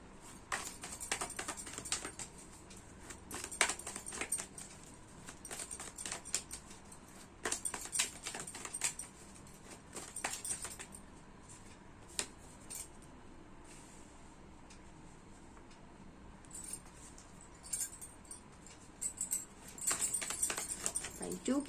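Tarot cards are drawn and shuffled by hand, giving soft papery patter and flicks in irregular bursts, close and fairly quiet against a steady background hiss.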